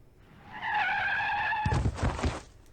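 Car tires squeal in a sustained skid on a city road in the Steins;Gate visual novel, loud and close, cut off by a heavy thudding impact.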